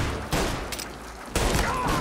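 Gunfire in the video game Mafia: Definitive Edition, with bursts of loud, dense shooting that start and stop across two seconds, no talk over it.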